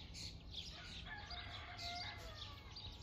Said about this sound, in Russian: Петух поет или кукарекает, как правильно.